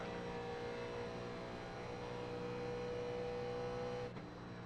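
A NASCAR race car engine in the iRacing sim at Las Vegas, a steady droning hum held at an even pitch, muffled and fairly quiet, ending with a slight dip, no talk.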